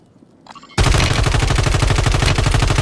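Automatic gunfire in Call of Duty Warzone: a loud, sustained rapid burst of shots that starts abruptly after a brief quieter moment and runs unbroken to the end, close and dominant, with no talking.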